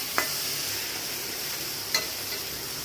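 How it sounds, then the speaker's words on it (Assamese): Shrimp cooking with mustard and chili powder sizzles softly in a pan while a spoon stirs it, with two brief scraping knocks against the pan over the steady fry. "আৰু এতিয়া এইখিনি লৰাই লৈছোঁ পূৰা ভালদৰে।"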